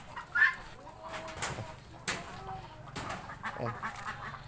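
Pekin ducks in a backyard pen give a few scattered quacks and calls, moderately close, with brief bird chatter in between over a quiet outdoor background.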